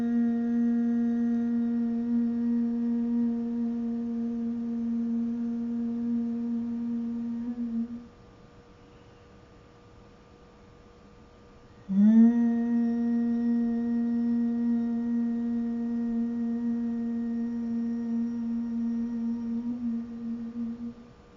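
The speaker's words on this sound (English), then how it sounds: "the hum that goes along with the exhale has a quality like bees buzzing in a hive" Bhramari breath practice: a steady humming exhale like bees buzzing in a hive, a low sustained hum that stops for a few seconds of quiet breath and then resumes, close and calm.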